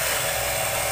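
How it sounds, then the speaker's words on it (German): An automated power saw cutting angle pieces in a workshop gives a steady, loud, high-pitched whine that runs unbroken through the whole moment, with no talking over it. "Lassen einfach sägen den Scheiß."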